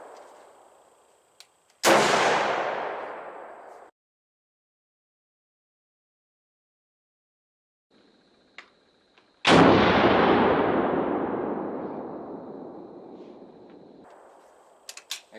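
Two sharp, booming shots from a 6.5x54 Mannlicher-Schoenauer rifle, each a loud crack followed by a long rolling echo that fades over a couple of seconds, with quiet gaps between them.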